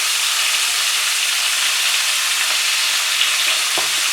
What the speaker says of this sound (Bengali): উল্টে পাল্টে ভালো করে কিন্তু পটলগুলোকে ভেজে নিতে হবে।